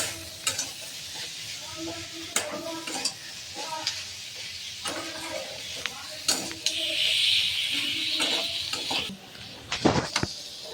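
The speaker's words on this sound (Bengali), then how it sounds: "আর এটাকে নেড়ে নেড়ে মাছটা আরো খানিকটা নরম হয়ে যাবে" Dried Bombay duck fish fries in oil in a pan while being stirred, with a soft continuous sizzle broken by repeated scraping and clinking strokes of the spoon, close and clear.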